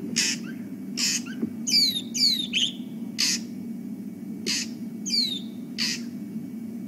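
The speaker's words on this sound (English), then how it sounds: "Now what you can hear there is a whole lot of drongos starting to call," Several drongos call at dusk on an African safari drive, sharp squawks and rising whistled notes repeating at irregular intervals over a low steady engine-like hum, fairly near and clear with no talk.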